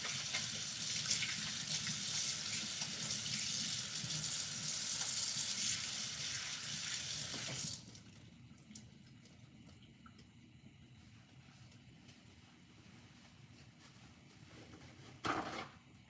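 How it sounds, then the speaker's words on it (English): Tap water runs steadily into a home kitchen sink while hands are washed before cooking Jamaican brown stew fish. The rush continues for about eight seconds, then shuts off into quiet, with one brief knock near the end. "let me wash my hands and get the cooking going"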